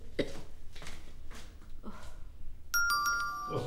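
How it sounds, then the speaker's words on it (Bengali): A doorbell rings at night in a quiet room: after a few soft, scattered sounds, a clear ding-dong chime sounds near the end and its bright tones ring on. "রাতের বেলা কলিং বেল না বাজাল"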